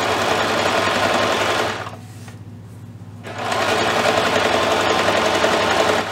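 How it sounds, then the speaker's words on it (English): A small Singer sewing machine whirs in a fast, steady mechanical run, pauses briefly, then resumes stitching at the same rapid pace; no voices. "I'm sewing on my very first sewing machine that my parents bought me"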